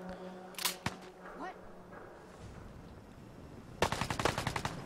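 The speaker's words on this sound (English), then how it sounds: "Somebody's shooting." Gunfire in Fallout 4: a single sharp shot comes early, then after a quiet stretch a rapid burst of several fairly faint shots rings out against low background ambience.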